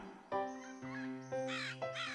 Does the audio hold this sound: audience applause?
no